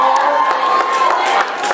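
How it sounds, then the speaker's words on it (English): Crowd at a New York Comic Con panel for Miraculous: Tales of Ladybug & Cat Noir cheers and claps loudly, a short burst of whoops and shouting close by. "Round of applause. Round of applause."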